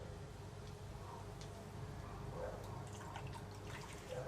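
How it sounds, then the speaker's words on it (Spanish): Water poured onto wet clay on a potter's wheel, faint soft trickling and dripping over a low steady hum, with small splashes scattered through the few seconds. "Le tira agua, el agua queda en el medio y va insertando sus dedos"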